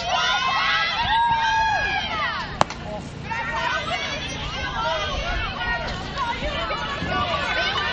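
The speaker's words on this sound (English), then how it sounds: "Crowd's really into it now on both sides." Spectators at a girls varsity high school softball game cheer and shout from both sides of the field, a dense, steady wall of excited voices and children's yells with one sharp knock partway through.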